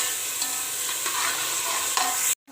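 Tomato masala sizzles steadily in a hot pan while a spoon stirs through it, close up, with a few soft scraping knocks before it stops abruptly.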